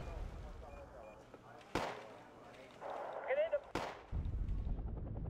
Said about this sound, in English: they're constantly peppering me with rocket barrages